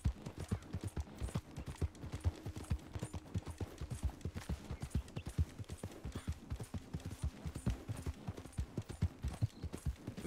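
Steady rhythmic hoofbeats of a large horse trotting in the video game Red Dead Redemption 2, continuous and fairly close, with a faint low tonal hum underneath.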